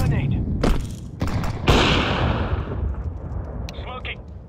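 A thrown grenade in a Counter-Strike 2 match on the Mirage map: several sharp thumping bursts fire in quick succession, ringing with a hissing decay, then fainter clicks near the end.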